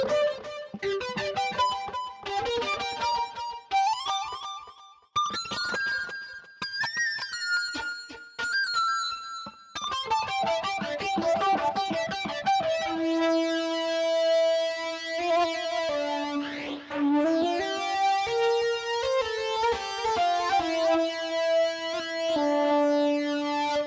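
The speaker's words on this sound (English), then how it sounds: "Very much a distorted flute with a little bit of echo." A flute played through a guitar effects pedal on its power flange distortion preset, heard alone as a gritty, buzzing distorted tone with a light echo, moving from quick runs of short notes into longer sustained, sweeping phrases.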